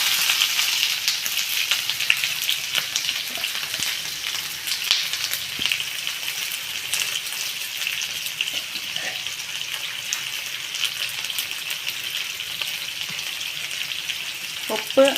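Mustard seeds and chopped onion fry in hot oil for a Kerala-style soya ball curry, giving a steady, close sizzle with faint crackles and occasional stirring, with no talk over it.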